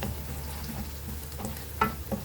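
Nigella seeds, fennel seeds and five dried red chilies frying in hot oil in a pan for sour mango pickle, a steady close sizzle with a couple of brief spatters or stirs near the end.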